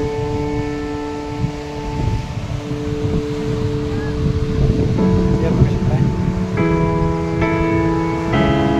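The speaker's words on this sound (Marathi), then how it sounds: "माझा मोबाईल वाऱ्यानं हालायला लागला, एवढं वारं आहे." Strong wind sweeps across Tulshi (Dhamod) dam near Kolhapur, a steady low roar buffeting close to the microphone, with a sustained tonal hum layered on top and a person speaking through it.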